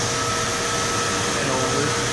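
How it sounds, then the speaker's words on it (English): A milking system's vacuum pump runs in a dairy barn on a family farm, a steady, loud broadband whoosh and hum that holds even and unbroken throughout. "So right there you can hear the vacuum, so it's pumping up"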